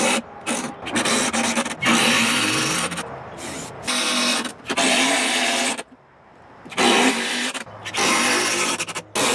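Power drill driving screws through countersunk holes into wooden seat boards on a homemade sandbox, in several loud whirring bursts separated by short pauses.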